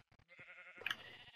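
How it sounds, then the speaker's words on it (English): Two short bleats from a sheep in Minecraft, a quick stuttering pair followed by a longer wavering bleat, faint and alone. "there's 2 sheep right here"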